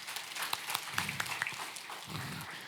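Church congregation applause during a service at GPI Graha Mas, a short burst of many hands clapping with a few sharper claps standing out and low murmuring voices under it.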